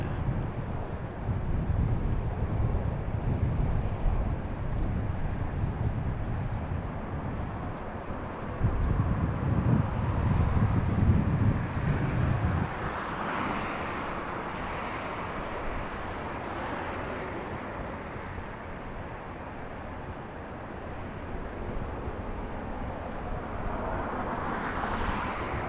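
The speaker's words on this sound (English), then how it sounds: "the wind is picking up a little" Wind gusting past an outdoor microphone at Los Angeles International Airport, a steady low rumble that swells louder for a few seconds before settling, with a distant aircraft faintly present.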